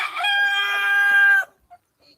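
A single loud, close rooster crow rings out for over a second on a free-range country chicken farm of about a thousand birds, then fades to near silence with a faint cluck after.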